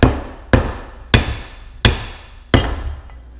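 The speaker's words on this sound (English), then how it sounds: "You can take a rubber mallet" Five sharp rubber mallet blows, about half a second to a second apart, knock against the skeg of a Johnson Evinrude 18–25 hp outboard lower unit that is stuck by its adhesive and gasket seal. Each thud rings out briefly, close and loud, with no talking.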